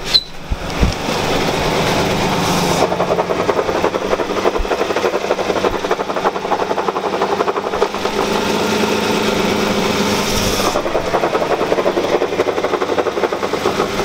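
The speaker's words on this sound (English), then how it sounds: "Dude, it sounds like the inside of the trans." Steady, loud mechanical whine and drone from a manual transmission while driving, heard from inside the car, continuous for the whole stretch with slight shifts in pitch.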